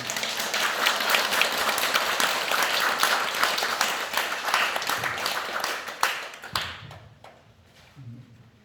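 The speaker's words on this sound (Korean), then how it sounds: "다시 한번 뜨거운 박수 부탁드리겠습니다" An audience claps after a lecture on the history of a Buddhist temple, a dense, sustained round of many hands that thins out and tapers to a few scattered claps and quiet near the end.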